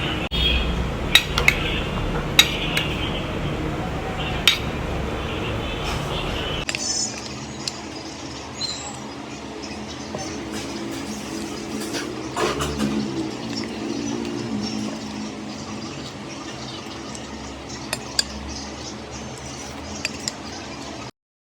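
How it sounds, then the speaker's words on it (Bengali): Mashed potato being mixed with chopped onion in a bowl: scattered light clinks and soft squishy knocks at close range, with a few sharper taps and a quieter stretch in the second half. "এখানে আমি এখন সব কিছু মিক্স করব, সাথে কিছু কুচি কুচি করে পেঁয়াজ কেটে নিয়েছি, সেটাও মিক্স করে নেব"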